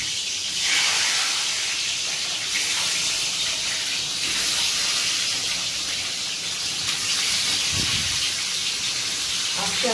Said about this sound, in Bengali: ডিমটা আমি ফ্রাই করছি।